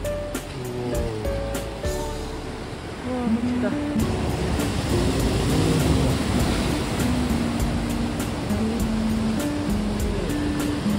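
Ocean surf rolls steadily onto the sand at Jinha Beach in Ulju, a continuous loud wash of breaking waves that swells after a few seconds, with people chatting and exclaiming close by over it.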